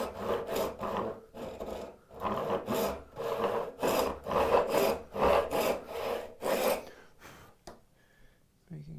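A hand saw cuts wood for a bridle joint in close-up. It rasps in rhythmic back-and-forth strokes that pause briefly now and then, and the strokes stop near the end.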